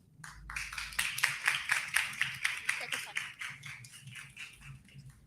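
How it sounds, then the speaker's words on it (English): A crowd at a scientific talk applauds with a steady patter of many hands clapping, rising quickly and tapering off over several seconds. "Let's welcome her with a round of applause."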